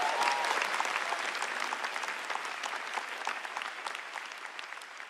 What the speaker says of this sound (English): Everybody give a round of applause to my mom and dad.